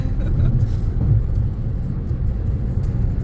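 A car cruising fast at about 120 km/h on a smooth highway, giving a steady loud low road rumble and engine drone throughout, with a voice speaking over it.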